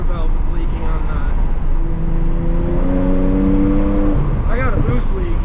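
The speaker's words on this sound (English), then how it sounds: "I feel like the diverter valve is leaking on that." A BMW 335i with a leaking diverter valve drones and revs from inside the car, its engine tone rising and falling as voices talk over it.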